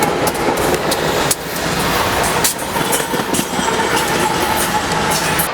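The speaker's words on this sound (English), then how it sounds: "See you later, train." A freight train rolls past on railroad tracks in Texas, giving a loud continuous rumble and clatter of railcars close by, steady throughout with faint rhythmic clicks of wheels.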